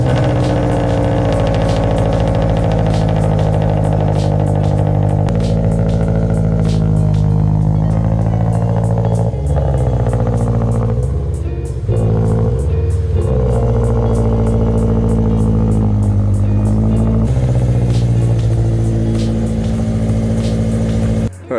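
A Subaru BRZ engine cold-starts and settles into a loud, steady idle heard up close, its rumbling drone shifting pitch in a few places as the revs drop and rise again.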